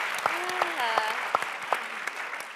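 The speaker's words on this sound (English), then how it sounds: "I think we need a round of applause for that kind of energy." Audience applause at a media panel event, with steady clapping from a crowd lasting a couple of seconds as a voice speaks over it.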